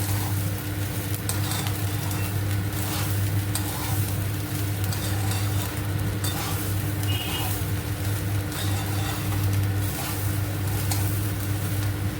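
Navratan pulao ingredients fry in a pan with a steady sizzle and continuous stirring scrapes throughout, close and alone, with a constant low hum beneath.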